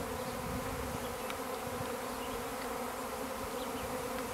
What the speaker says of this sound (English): The bees are swarming from the hive in the tree fort.